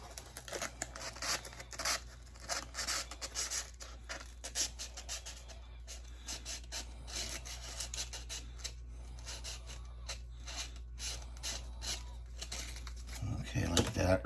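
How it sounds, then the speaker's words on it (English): Very light sandpaper rubs a Grex airbrush part, making quiet, rapid scratchy strokes in an uneven rhythm throughout. "I'm going to take a little very light sandpaper and I'm going to squeeze it in between the sandpaper"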